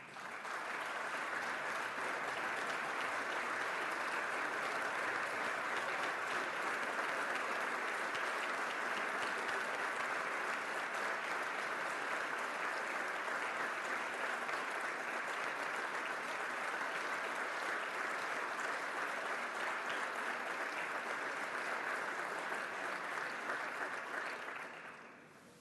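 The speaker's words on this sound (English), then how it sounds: "We'll just clap for you." Sustained applause from members filling the New York State Assembly chamber, a dense even wash of clapping that holds steady for about twenty-five seconds before cutting off.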